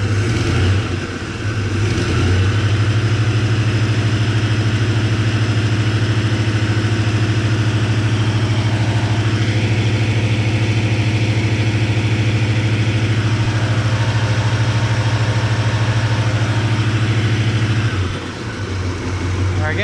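A 1978 Chevrolet El Camino engine idles steadily at close range with a strong low hum, then the throttle is raised and held for a long stretch before dropping back to idle near the end.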